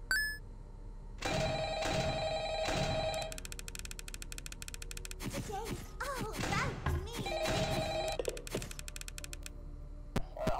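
A phone rings inside Five Nights at Freddy's: Ultimate Custom Night, its repeated electronic tone sounding in bursts among clicks, beeps and game noises, while a voice talks over the top.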